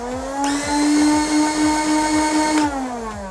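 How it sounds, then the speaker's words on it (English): Conveyor belt mechanism of a Dart Zone toy dart blaster running, a loud close motor whine with a bright buzzing layer that kicks in and cuts out, plus a steady repeating click beneath, no voices. "Now the conveyor belt sounds a little bit like this."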